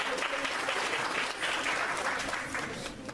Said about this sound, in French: Donc il faut applaudir M. Boudra